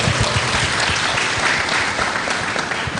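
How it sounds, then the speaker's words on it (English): A crowd at the 10th Jamaica Diaspora Conference bursts into a dense, steady round of applause for Pete, loud and unbroken for the whole stretch, with no voices standing out. "Let's give Pete a round of applause."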